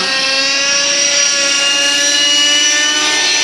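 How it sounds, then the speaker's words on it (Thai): A remote-control aircraft's rotor spins at about 18,000 rpm, giving a loud, steady, high-pitched whine that stays constant and close throughout with no talk. "ตอนนี้รอบเนี่ยมาไม่ต่ำกว่าหมื่นแปดพันรอบนะครับที่ใบพัดนะครับ"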